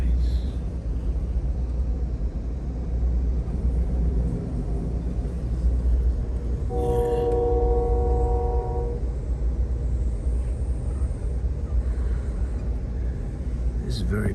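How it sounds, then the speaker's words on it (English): A train rolls along the rails with a continuous heavy low rumble and rattle heard from inside, and a horn sounds once briefly in the middle. Voices can be heard at times. "This is very beautiful, taking the train."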